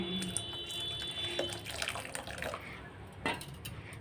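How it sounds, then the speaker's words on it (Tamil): Tamarind water poured into a pot of simmering sambar with the vegetables mostly cooked, giving a faint, soft liquid splash and trickle that rises briefly and then settles, heard alone at low level. "இப்போ நம்ம புளி தண்ணி ஊற்றிக்கலாம்."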